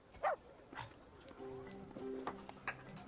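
Puppies in the video game Rise to Ruins give a few short, sharp barks spaced a second or two apart, sitting above steady tonal game background sound.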